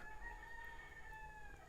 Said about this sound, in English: There's a chicken if you hear it.